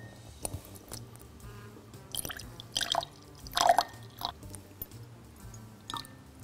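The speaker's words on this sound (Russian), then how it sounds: "У тебя там был один такой бульк очень громкий" Spilled liquid during a quiet pouring challenge: soft scattered drips and small splashes, with one louder gurgling splash in the middle, all quiet and close with no talk.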